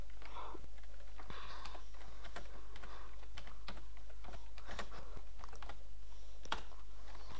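A computer keyboard being typed on for chat in a Minecraft game, a quiet irregular patter of key clicks with small pauses and sharper single taps over a low steady hum, no talking.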